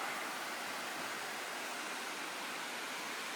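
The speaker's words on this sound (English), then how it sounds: "Little waterfall there." A small waterfall at Bell Gorge makes a steady, even rush of falling water, a continuous hiss heard alone at moderate level.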